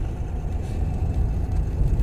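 A car cruising in fifth gear at around 40 km/h gives a steady, low engine and road rumble, close and even throughout with no talk.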